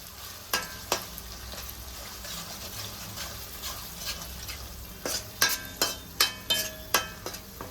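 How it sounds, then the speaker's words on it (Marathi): Ground homemade masala sautés in hot oil in a kadhai for shev bhaji, a soft low sizzle with sharp spoon knocks against the pan, sparse at first and then a quick run of taps near the end. "मी आता वाटलेला मसाला तेलात परतून घेते"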